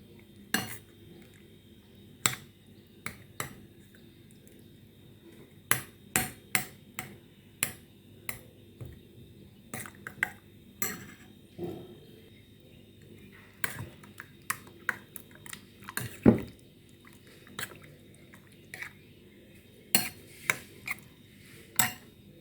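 Breakfast ingredients being mixed in a bowl: irregular sharp clicks and taps of a utensil against the bowl, close and fairly quiet, with no talking.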